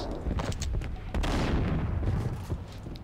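Rapid bursts of gunfire from a shooter video game in the Max Payne series, repeated sharp shots packed closely across the whole stretch, loud and dense with a steady barrage and only brief gaps.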